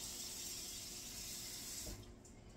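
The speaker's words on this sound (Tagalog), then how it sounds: "lagyan natin ng tubig." Tap water runs steadily into a cooking pot while salmon paksiw is being prepared with vinegar, a close continuous hissing pour that stops abruptly near the end.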